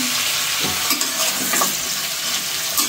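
Vegetables with chili powder frying for khichuri, stirred and mixed with a continuous loud sizzle and intermittent scraping strokes of a spoon against the pan, no talking.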